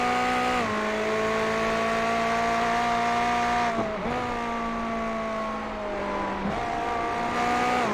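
Onboard GT3 race car engine in a sim racing event, a steady loud whine with gear changes dropping the pitch around one, four and six and a half seconds, continuous and close throughout.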